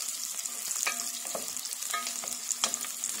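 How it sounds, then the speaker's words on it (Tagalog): Large-cut onions sizzle in a pan for chicken curry while a utensil stirs them, scraping and clicking against the pan in quick irregular strokes over a steady frying hiss. "Haluin lang natin maigi guys yung mga sibuyas kasi medyo malaki ang pagkakahiwa ko ng sibuyas."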